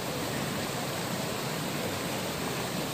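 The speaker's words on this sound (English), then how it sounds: "this is Zealand Falls, and really great place to dip yourself into" Zealand Falls on the Appalachian Trail pours in a loud, steady broadband roar, close and continuous, with no voices over the rushing water.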